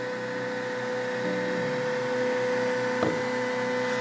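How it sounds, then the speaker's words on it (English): TierTime UP300 3D printer stepper motor running an auto calibration, a steady hum with fixed tones that stops and starts rather than turning continuously, with a brief click near the end. "if you listen, the motor is not turning all the time"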